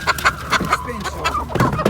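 Roosters and chickens at an outdoor poultry market cluck in a rapid series of close, sharp calls, with a faint voice in the background.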